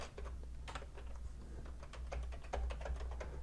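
Typing on a computer keyboard into spreadsheet cells, rapid quiet key clicks in an uneven run, close and alone.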